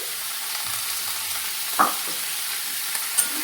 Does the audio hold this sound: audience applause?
no